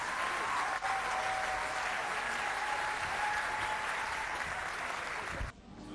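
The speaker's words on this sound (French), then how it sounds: "Sous vos applaudissements, Monsieur Sobel Aziz Ngom." An audience claps steadily and loudly to welcome a speaker to the stage, a dense, even roar of hands lasting over five seconds before fading abruptly.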